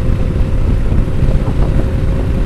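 A Yamaha Nmax scooter rides at speed on a busy road with the rider sitting upright, heavy wind buffeting the microphone over a steady engine drone, loud and continuous with no talking.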